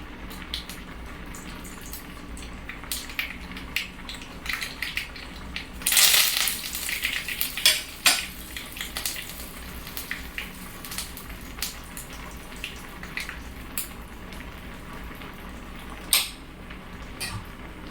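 Mustard seeds spluttering in hot oil with broken dried red chillies, a steady crackle of small pops and sizzle, with one louder burst of spitting and scattered sharp pops.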